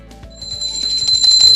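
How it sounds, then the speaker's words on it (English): A worship bell ringing with a bright, sustained metallic tone that swells louder over a short moment, standing alone without any voices. "It's a worship bell."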